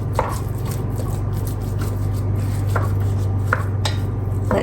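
Hamburger meat browning in a pan for chili, broken up with a utensil: a steady close sizzle under a low hum, with a handful of sharp taps and scrapes against the pan at irregular intervals.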